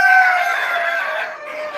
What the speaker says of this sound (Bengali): মুরগি এই টাইমে কক কক করে ডাকে